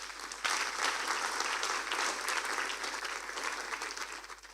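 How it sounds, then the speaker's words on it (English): Audience applause at a women's entrepreneurship event, a crowd clapping steadily at moderate distance, rising quickly and easing slightly toward the end. "can she receive another round of applause?"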